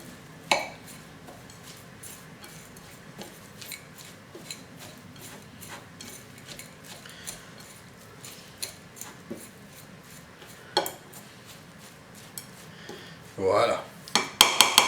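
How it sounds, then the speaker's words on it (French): Salted raw vegetables are stirred in a bowl with a utensil, producing scattered light clinks and scrapes over a quiet room, ending in a denser burst of clattering knocks. "On mélange bien, le temps que le sel puisse faire son boulot."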